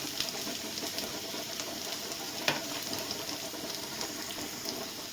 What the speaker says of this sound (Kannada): ಒಂದು ಸರಿ ಮಿಕ್ಸ್ ಮಾಡಿ ಫ್ರೈ ಮಾಡ್ಕೊಳ್ಳಿ